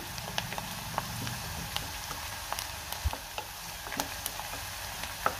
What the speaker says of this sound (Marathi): कांदा मी दोन मिनटं चांगला परतून घेणार आहे